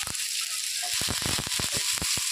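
Onion, curry leaves, green chilli and garlic temper in hot oil, crackling and popping close up in rapid irregular bursts over a steady sizzling hiss.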